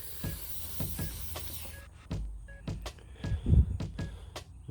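WD-40 is sprayed onto a bearing in a series of short, sharp hissing bursts, the first long and sustained, then several quick squirts with small clicks and handling knocks between them, close up.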